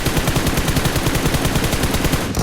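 Fast automatic gunfire in PUBG Mobile, a dense, evenly spaced stream of loud, close shots that runs unbroken for a couple of seconds with no voices over it.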